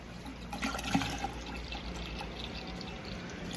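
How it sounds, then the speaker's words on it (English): Water drains slowly out of an electric water heater being changed at a mini golf course, giving a soft, continuous trickle and splash with a few brief drips and gurgles early on. "I'm just waiting for the rest of this water to drain."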